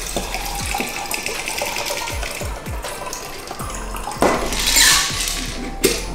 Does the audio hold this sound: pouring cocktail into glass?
yes